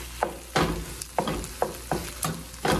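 Spring onions stirred into a sizzling chicken and vegetable stir fry, the spatula striking the pan in sharp regular scrapes about every third of a second over steady frying hiss, close up with no voices.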